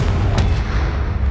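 A Confringo spell explodes in the Hogwarts Legacy video game: one sharp, loud blast bursts out early over a dense, rumbling wash of game noise that persists throughout.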